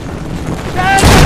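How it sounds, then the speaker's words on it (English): A bridge collapses in Assassin's Creed: Brotherhood with a loud, rising rumbling crash that swells into a heavy booming burst at the end, over a busy game soundscape. "Yo, the bridge broke."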